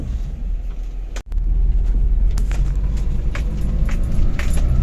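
A Maruti Zen car is driven with a loud, steady low engine and road rumble, interrupted by a sharp click and a momentary dropout early on, then droning on close by.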